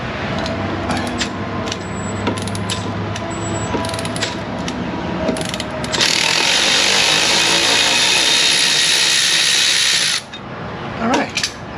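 A ratchet works on stubborn drive shaft bolts in an auto repair shop, with a run of short mechanical bursts followed by a sustained, louder whirring stretch of a power tool, then a brief lull with a few clanks, close up.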